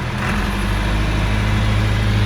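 A John Deere 2510 tractor engine idles at low revs, a steady close rumble with a low droning hum that runs unbroken and fairly loud throughout.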